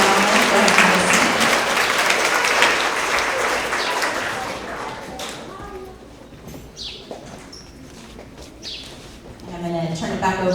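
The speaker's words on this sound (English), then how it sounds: "Another round of applause for all of these amazing readers." Applause from a school assembly audience at an end-of-year award ceremony for third to fifth graders rises loud and full, then thins to scattered claps, with a voice speaking over the fading crowd.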